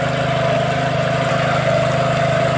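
Steady engine of a motor boat running on the water, a continuous close droning hum with no break and no talking.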